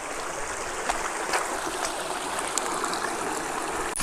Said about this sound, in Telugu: నీళ్ళు చూడండి ఇక్కడ ఎలా ఫ్లో అవుతున్నాయో